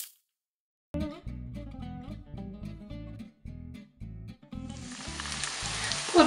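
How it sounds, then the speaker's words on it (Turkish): Rice toasting in oil in a pot for Turkish pilaf breaks into a bright, loud sizzle near the end, rising over music that plays throughout. "5 dakika kadar kavuruyoruz."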